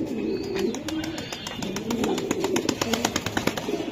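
A pair of racer pigeons, male and female, give close, rolling coos at a steady moderate level, while rapid clicking or tapping builds into a quick rhythmic patter in the second half.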